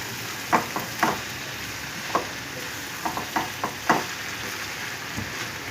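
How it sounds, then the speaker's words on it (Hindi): Spinach frying in a pan with ginger and garlic, a steady low sizzle broken by scattered scraping and tapping strokes of a stirring spoon, close and moderately loud. "ये पालक पक जाएगी, अच्छी तरह भून जाएगी"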